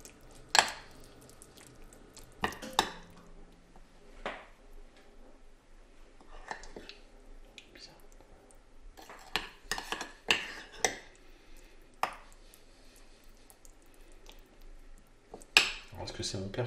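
A spoon mixes fromage blanc with chives and a little salt in a bowl, making scattered clinks and scrapes against the dish with soft squishy pauses between them, fairly quiet and close.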